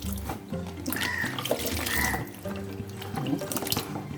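Soaking water, salted for rose apples, being poured off and draining into a sink: an uneven, splashing gush of running water at close range, continuing the whole time without talk.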